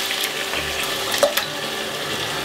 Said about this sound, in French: On rince, un peu d'eau, tourne et retourne, on transvase